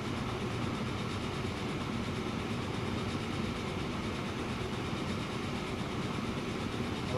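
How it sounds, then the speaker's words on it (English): A train rolls along rails in the Transport Fever video game, giving a steady, unbroken rumble with faint rhythmic clatter and engine hum that holds at an even level throughout. "Nice train."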